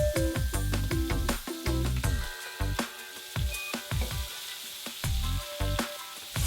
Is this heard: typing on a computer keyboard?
no